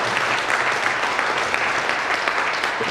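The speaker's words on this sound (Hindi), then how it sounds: "एक बार भगवान साहेब वर्मा जी पे जोरदार तालियां," A crowd at a first-anniversary company event bursts into loud, dense, continuous applause that holds steady for about three seconds, with no voices over it.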